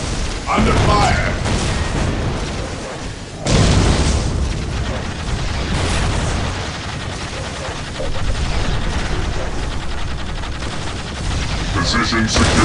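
Constant explosions and gunfire from the Warhammer 40,000: Dark Crusade strategy game, with dense booming blasts and rattling fusillades layered loudly throughout, and a heavy detonation partway in; game unit voices speak over the battle.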